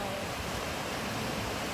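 Strong surf rolling in at a beach in Zambales during rough conditions, a steady broadband wash of crashing waves and wind that fills the whole clip without pause.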